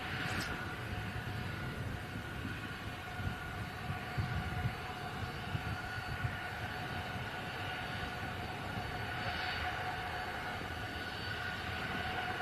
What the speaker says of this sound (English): Bit of a racket from the Ryanair taxiing past us at the moment. Just a 737-800.